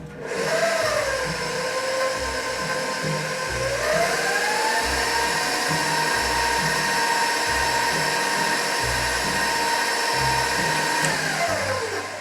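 An electric stand mixer with a paddle beater churns cookie dough with salt, baking soda and cinnamon, a steady loud motor whir with pitch shifts as speed changes, running continuously and close by.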